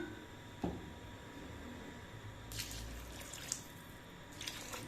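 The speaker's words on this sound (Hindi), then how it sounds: "दो गिलास पानी मैंने इसमें ऐड कर दिया है" Water goes into a cooking pot for Uzbek pulao, heard as faint drips and a soft splash, followed later by brief louder bursts of pouring and sloshing, with no talk.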